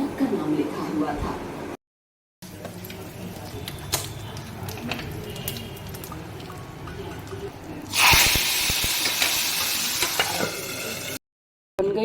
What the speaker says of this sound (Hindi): बन गई है, तड़का लग गया है